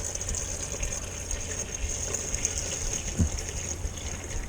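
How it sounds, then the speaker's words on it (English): Water poured from a gallon jug into the water pan of a smoker, beneath a lifted grate, making a steady close gush of filling liquid that runs continuously with a brief splashy bump near the end. "pour in the water."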